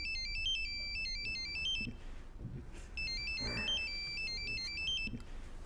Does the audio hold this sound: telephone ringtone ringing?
yes